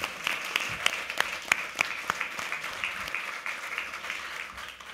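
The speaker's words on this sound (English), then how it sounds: "So just give them a really good applause again." Audience applause at a live debate in Oslo, steady dense clapping from a crowd with a few sharper individual claps standing out, sustained at moderate level throughout.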